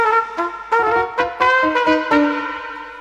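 Jazz trumpet on a recording plays a short, bright phrase of clearly separated notes, loud and close, alone without talk.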